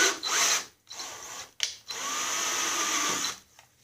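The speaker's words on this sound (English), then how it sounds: "now I'm just going to put the tap in the drill and thread the hole." A power drill driving a tap to thread a hole for a headlight bracket on a 2012 Snapper whirs in several bursts, stopping and starting, the longest run steady before winding down; close and fairly loud.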